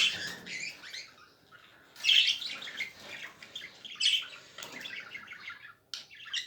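Caged budgerigars chirp and twitter continuously in high, busy bursts, several birds overlapping close by with brief louder flurries.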